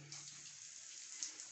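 Hot water pours steadily from a small instant electric geyser into a bucket, a faint, even hiss that runs without a break and with no voices.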